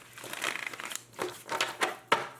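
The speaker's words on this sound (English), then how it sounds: "One more real shuffle." Soft papery riffling and crinkling bursts with a few sharper snaps, close but quiet, like cards being shuffled and squared up.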